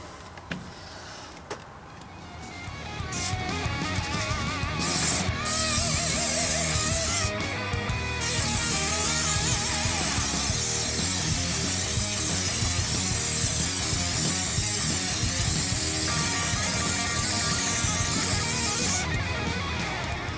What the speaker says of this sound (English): so I'm going to give it a spray on.